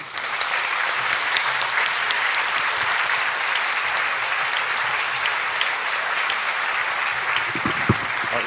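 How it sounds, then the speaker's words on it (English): Sustained audience applause fills the room at a book and music festival in Hawaii after a keynote speech, dense and steady throughout, with a few low thumps near the end. "Let's give another big round of applause for Joanne Jenkins"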